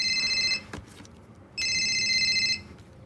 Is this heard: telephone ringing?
yes